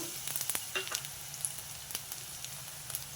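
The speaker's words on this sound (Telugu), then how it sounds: "మిరపకాయలు వేయించుకోవడానికి ఆయిల్ వేసేసా ముందుగా ధనియాలు వేసేస్తాండి తర్వాత మెంతులు" Coriander seeds and fenugreek seeds sizzling in hot oil in a heated kadai, a steady close frying hiss with scattered small pops and crackles, no talk.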